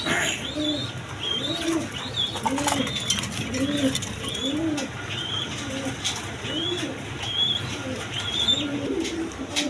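Red Gola pigeons coo over and over in a steady, rhythmic series of rising-and-falling calls, close and fairly loud against a constant background hiss and clatter.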